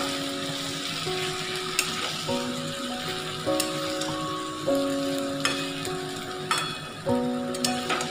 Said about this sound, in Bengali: এই গুঁড়ো জিরেটা দিয়ে দিতে হবে। দিয়ে এবার সামান্য একটু নেড়ে নিতে হবে।